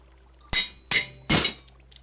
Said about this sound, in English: Oh, broke the anvil